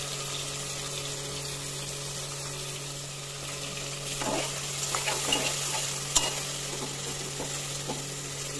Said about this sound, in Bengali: এই পেঁয়াজের মধ্যে টমেটো দিয়ে দিলাম, তার জন্য আমি একটু লবণ দিয়ে দিচ্ছি।